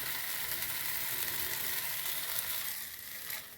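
A jowar dosa sizzling in oil on a pan as it is flipped, a loud, dense crackling sizzle up close that eases off slightly toward the end.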